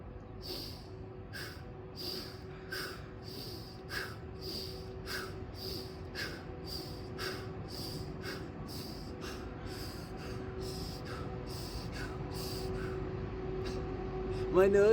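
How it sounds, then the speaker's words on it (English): Mouth exhalations during a morning qigong breathing practice, a steady series of soft breathy pulses repeating about every second, close and quiet over a low constant hum. "My nostrils got cold, so I continued the breath with my mouth."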